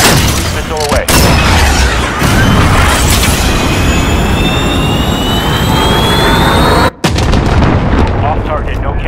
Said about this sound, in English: Jaguar, missile away.